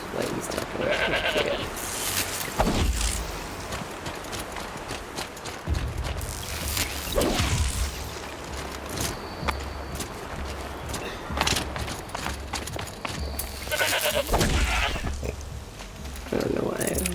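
A goat in the Horizon Zero Dawn video game bleats several times amid in-game sounds, with a person talking over the gameplay.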